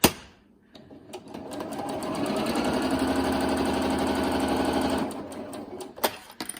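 A sewing machine stitches a pleated fabric face mask in one steady run of about four seconds. The close, rapid mechanical rattle is framed by sharp clicks and handling sounds before and after.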